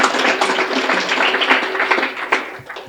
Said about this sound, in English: Another round of applause for the Warrior Village Project